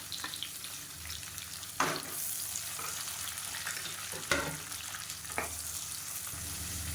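Long-sliced big onions sizzle steadily in hot oil for tomato rice, crackling close and continuous, with a few sharper stirring scrapes breaking through. No one speaks.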